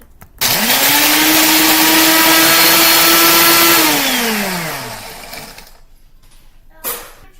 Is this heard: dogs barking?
no